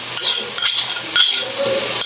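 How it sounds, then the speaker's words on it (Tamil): Ginger and garlic frying in a pan for a village-style chicken curry, with a steady hissing sizzle and repeated clinks and scrapes of a spoon stirring, close and loud. "நாங்கள் இனி இஞ்சி பூண்டு போட போகிறோம்."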